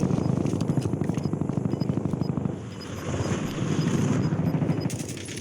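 Rapid, continuous automatic gunfire from a competitive shooter game match, loud and dense bursts running almost the whole time with a brief dip midway, no talking.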